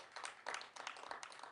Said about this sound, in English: Clap your hands if you have an overprotective mother.